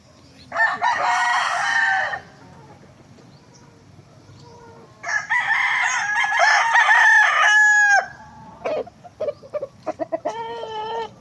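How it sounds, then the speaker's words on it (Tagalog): Roosters crow loudly and close by in a backyard farm, two long calls separated by a pause, followed by a run of short, choppy clucks and squawks from chickens. "konti pa lang yung manok ko, nasa 20 plus pa lang yan"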